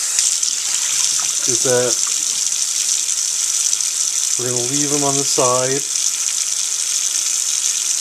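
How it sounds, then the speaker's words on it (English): Tap water runs steadily over grains and seeds being rinsed for sprouting, a loud continuous gushing hiss under a voice speaking in short phrases. "to just rinse these grains off, these seeds off."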